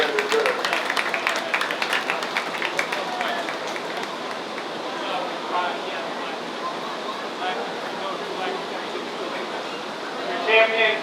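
An audience at a 4-H poultry show at the Washington County Fair in Washington, Iowa applauds, a sustained wash of clapping that is loudest at the start and holds steady before a brief swell near the end.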